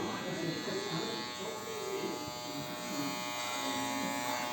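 Electric hair clippers buzz continuously during a child's haircut at a children's barber shop, a steady close hum running throughout while an adult talks over it.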